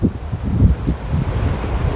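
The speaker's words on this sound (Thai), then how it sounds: "โอ้ยเสียงลม" Strong wind buffets a tent at a cold hilltop campsite at Phu Ra Roeng, Wang Nam Khiao, a continuous loud roaring rumble with gusting surges and microphone wind noise, no speech.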